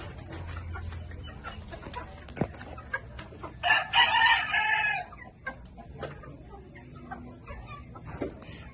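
Chickens and rooster stags on a small farm: one loud, close crow rings out over a steady background of clucking and distant farmyard birds, with quieter calls scattered throughout.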